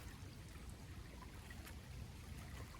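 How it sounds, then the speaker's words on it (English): Creek water running on an off-grid farm, a faint, steady trickling wash with soft scattered splashes and no talk. "you can hear the water running"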